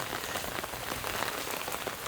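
Heavy rain pours down in a village in Punjab, Pakistan, in a dense, steady hiss of drops hitting surfaces, continuous and close, with no one speaking.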